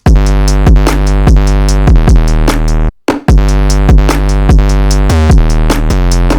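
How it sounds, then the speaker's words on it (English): Loud hip-hop drum loop in type beat style. A heavy sustained 808 bass sits under rapid hi-hats and snappy hits, with a brief dropout near the middle before the pattern returns. "This drum loop sounds like this."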